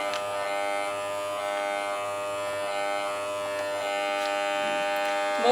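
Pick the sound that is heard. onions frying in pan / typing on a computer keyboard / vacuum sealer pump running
vacuum sealer pump running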